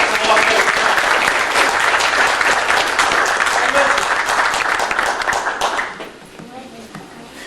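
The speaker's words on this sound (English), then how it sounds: "Let's give him a round of applause." A crowd applauds loudly and steadily for several seconds before the clapping thins out and fades near the end.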